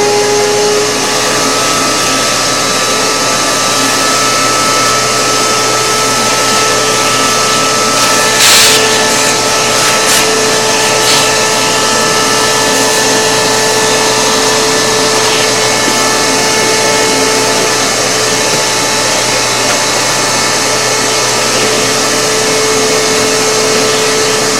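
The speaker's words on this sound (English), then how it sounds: "Oh, shop vac coming on." A shop vacuum running in a woodworking shop, a loud, steady drone with a constant whine that holds unchanged the whole time.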